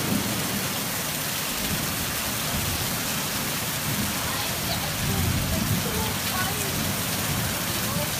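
Heavy rain pouring in a steady, dense roar that fills the scene, loud and continuous with a low rumble beneath, no voices standing out.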